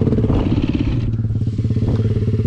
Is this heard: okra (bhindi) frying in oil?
no